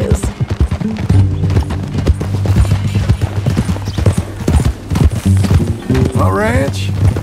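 Horse hooves clip-clop in a steady walking rhythm, close and prominent, within the Red Dead Redemption 2 game world, with a low background drone and a brief whinny or squeal near the end.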